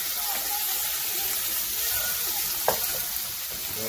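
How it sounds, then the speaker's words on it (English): Wine hisses and sizzles in a hot pan while deglazing for a shrimp pasta, a loud continuous bubbling roar with a single small clink of a utensil partway through. "I'll just try to deglaze the pan."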